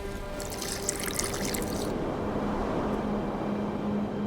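Water pours into an alchemy mixture in the video game The Witcher 2, a close, steady trickling pour with a brief bright splashing burst at the start.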